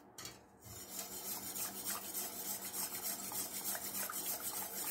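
A spoon stirs Georgian chikhirtma, a chicken soup seasoned with turmeric and khmeli suneli, in a pot, giving soft, continuous scraping and swishing strokes at a low level with no voices.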